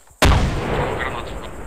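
Grenade explosion in ArmA 2, a single sharp, loud blast that hits suddenly and then rolls off into a lingering rumble and reverberating tail.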